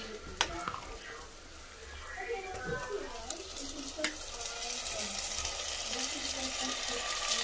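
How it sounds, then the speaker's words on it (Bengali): Marinated mutton dropped into a pan of browned fried onions sizzles in a steady, fairly quiet hiss with occasional stirring clinks, continuing evenly throughout. "এখন এই মাংসটা দিয়ে দিব, ম্যারিনেট করা মাংসটা দিয়ে দিব"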